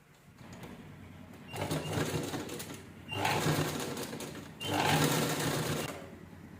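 A sewing machine stitches the inside seam of a small one-side purse made with two zips, running in three steady bursts that grow slightly louder, each separated by brief pauses, with no talking.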